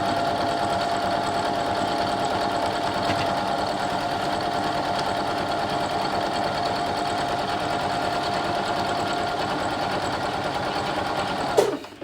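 A sewing machine stitches quilt borders in a steady, continuous whir at close range, running without pause for about twelve seconds before stopping abruptly at the end.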